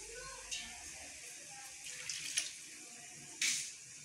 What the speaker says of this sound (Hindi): हम लोग इसके अंदर 2 कप पानी डाल रहे हैं।